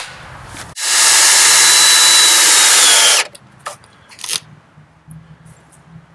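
Power drill driving a deck screw into a wooden raised bed made of 2x6 boards, a loud steady whir lasting about two seconds, followed by a few short clicks and knocks.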